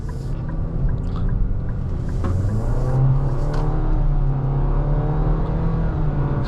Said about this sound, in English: There is a test right there of said CVT, this new CVT.